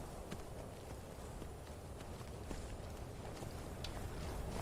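Horse hooves clip-clop in the video game Skyrim, a steady patter of hoofbeats under a dense, continuous ambient bed at moderate, even loudness.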